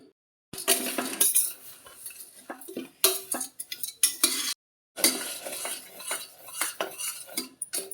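Jaggery melting in a pressure cooker with cloves and cinnamon, stirred with a metal spoon: close, busy scraping and clinking against the pot in bursts, with brief silent pauses between, no talk.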